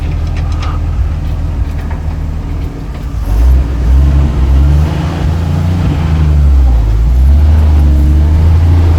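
A Dodge Power Wagon truck, swapped engine, crawls in first gear, its low engine drone rising and rumbling loudly up close as it pulls slowly along.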